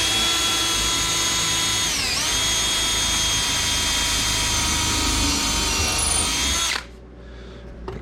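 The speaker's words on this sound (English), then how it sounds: "But I drill one hole in the center," A power drill with a 1/8 inch bit bores into a hardwood stair tread on cellar steps, a loud steady high whine that dips in pitch briefly and runs for about seven seconds before cutting off abruptly.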